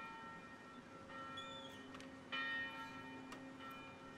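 A distant bell rings a few spaced strokes with lingering tones over a steady hum, faint and unhurried.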